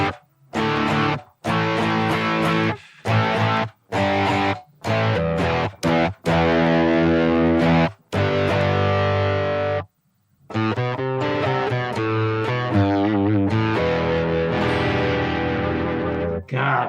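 Electric guitar with a very hot, near-active-level pickup driven through an amp, heavy distorted chords chugged in bursts with brief stops, then a busier stretch of sustained riffing, loud and close.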